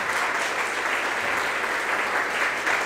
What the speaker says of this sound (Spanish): Un fuerte aplauso para el Padre.